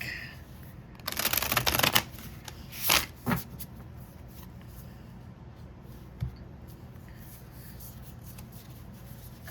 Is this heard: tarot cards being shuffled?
yes